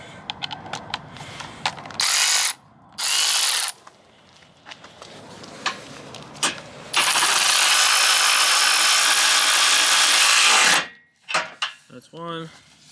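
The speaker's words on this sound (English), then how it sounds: "Got my ratchet, makes it a little bit easier." A ratchet wrench works bolts on a Chrysler 300 build, giving sharp rapid clicking bursts near the end, alongside loud sustained whirring power-tool runs and scattered clanks and knocks in a garage.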